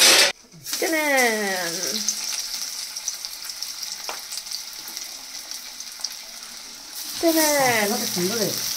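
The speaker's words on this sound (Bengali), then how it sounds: "এই এগুলো কাটলেট গুলো আগে ভেজে নি" Cutlets sizzle steadily in hot oil with a constant crackling hiss, while voices speak over the frying at the start and again near the end.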